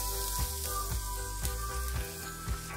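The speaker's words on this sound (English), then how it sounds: "So in the oil, add the chopped garlic." Chopped garlic sizzles in hot oil, a close, steady frying hiss with faint rhythmic stirring thumps about every half second.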